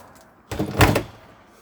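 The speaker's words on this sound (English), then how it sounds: "Going on to the inside of the caravan now, so shut the door over." Door of an Elddis Avante 524 caravan pushed shut from inside, a single close thump with a brief rattle, heard alone.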